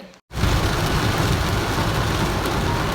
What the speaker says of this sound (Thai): วันนี้ก็ฝนตกหนักมากด้วย